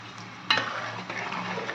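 Tempering spices for tomato pickle fry in a pan, giving a soft, close sizzle, with a single sharp utensil clink early on and light stirring after it.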